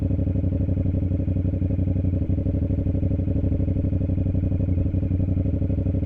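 A motorcycle engine chugs at low revs as the clutch is slowly released, with a steady, rhythmic putter and slight clatter, running close by without any talking.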